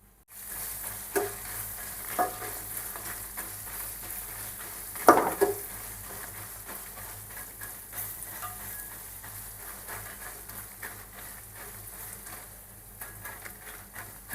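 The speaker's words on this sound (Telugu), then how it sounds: "ఇప్పుడైతే చింతపండు వేసుకొని కలుపుకుందాం" Tamarind and chillies fry in a pan for ginger chutney, a soft continuous sizzle with occasional stirring scrapes and one louder clink of utensil on pan midway, no voices.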